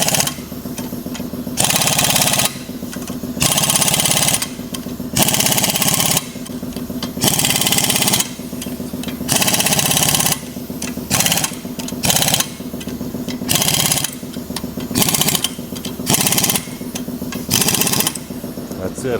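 Power impact wrench rattling bolts tight on a 1937 Lincoln Zephyr engine and transmission in a shop, loud repeated bursts of hammering whirr separated by short pauses, with some talk underneath.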